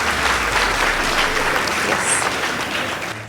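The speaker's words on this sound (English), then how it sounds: "Let's give them a round of applause," An audience at a school debate between Dandora Girls High School and Riara School applauds, a steady, dense burst of clapping that fills the room and fades slightly at the end.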